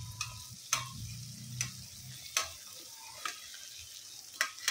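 Food frying in a pan on a stove until golden brown, a steady low sizzle with sharp clicks and taps of a utensil striking the pan every second or so, close and fairly quiet with no talking.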